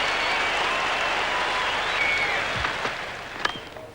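Cricket crowd applauding a six hit by Dean Jones, a broad sustained wash of clapping and cheering that holds steady, with a few sharper claps and shouts standing out near the end.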